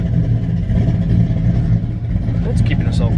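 Big-cam 5.3 V8 car engine idling steadily just after its first start, a loud continuous low rumble with a lumpy, uneven pulse, close by, with faint voices and light clatter near the end.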